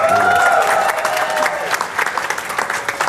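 An audience at a supervisor training event claps for a woman coming to the stage, a moderate patter of applause with a faint tone in the first second that then thins out.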